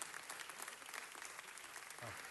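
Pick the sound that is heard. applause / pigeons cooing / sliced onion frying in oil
applause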